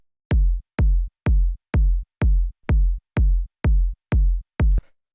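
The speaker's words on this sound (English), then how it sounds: "After that we have the kick," A layered 808-style techno kick drum hits about ten times at an even pace, around two per second. Each booming low thump has a clicky attack and a short decay, and it sounds loud and isolated.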